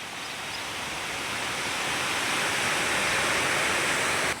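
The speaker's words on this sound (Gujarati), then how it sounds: "જો બાવણાની ઉપરથી પાણી જાય છે, જોઈ શકો છો મિત્રો." Rainwater rushing over the Shetrunji dam, a broad steady roar of flowing water that swells slightly and holds constant, with no voices.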